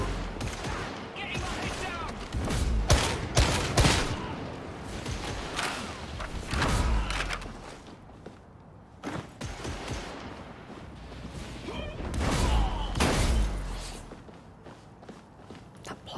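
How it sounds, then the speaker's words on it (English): A plasma gun firing in a first-person shooter video game, loud repeated bursts of shots in clusters separated by brief lulls, mixed with footsteps and mechanical clatter. "That plasma gun's crazy."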